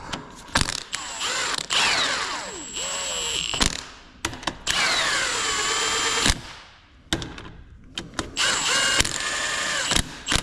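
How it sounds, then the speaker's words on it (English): A hand ratchet clicks in repeated quick bursts while tightening bolts on a Nissan 350Z/370Z differential during a Nismo GT Pro rebuild, close and loud between short pauses. "Go ahead and cinch it up and torque it down to 72."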